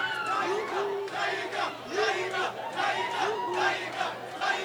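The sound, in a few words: crowd applauding and cheering to welcome Bruce Melodie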